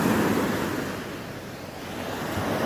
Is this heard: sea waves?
yes